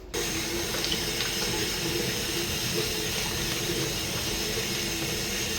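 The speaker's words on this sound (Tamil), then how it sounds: "இப்போ நம்ம வந்து தண்ணிட்டு ஒரு தடவை க்ளீன் பண்ணிவிட்டு" Tap water runs steadily over the filter of a split air conditioner as it is rinsed, a constant close splashing stream from start to end.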